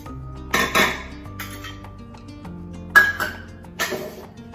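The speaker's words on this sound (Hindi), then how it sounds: "चाय के कप्स एंड चाय की तपेली इतना घिसना पड़ता है" Tea cups and a tea pan being washed by hand, with ceramic and metal clinks and clatters, a ringing pot tone, and splashes in irregular bursts, no voices.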